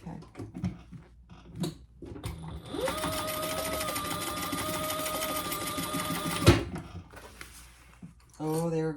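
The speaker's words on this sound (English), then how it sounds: "And now we're gonna just stitch this side closed at the same 1/4 inch seam allowance." A sewing machine runs a steady stitching burst of about four seconds while closing the side seam of a fabric travel pouch at a quarter-inch allowance, with a clear mechanical whir at close range, and conversation comes before and after it.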